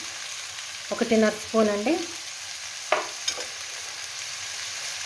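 Spices sizzle steadily in hot oil in a pan while a country chicken curry is cooked, a continuous frying hiss running under short stretches of a woman's speech, with a few light stirring clinks.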